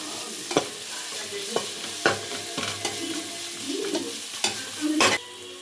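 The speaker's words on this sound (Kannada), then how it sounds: "ಕ್ಲೀನಾಗಿ ಸ್ವಲ್ಪ ಮೀಡಿಯಮಾಗಿ ಫ್ರೈ ಮಾಡ್ಕೊಳ್ಳಿ." Ginger garlic paste and green chillies fry over medium heat in a pan, with a steady sizzle under repeated scraping and stirring knocks from a spoon, heard close up and with no voices.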